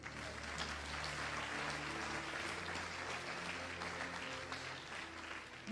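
A congregation at a gospel conference in Abidjan applauds and cheers for the Lord, a steady, dense wash of clapping from many hands sustained throughout at moderate distance.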